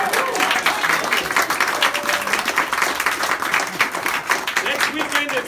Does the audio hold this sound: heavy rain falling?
no